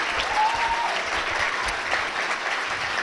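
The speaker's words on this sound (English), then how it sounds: "Give yourselves a round of applause" A stand-up comedy audience applauds steadily for about three seconds, a dense wash of many hands clapping at once, fairly loud and close.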